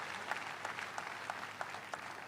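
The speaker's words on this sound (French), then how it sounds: "Applaudissons pour Jésus-Christ." Church congregation claps in a faint, distant wash of applause, with a few rhythmic individual claps rising at regular intervals.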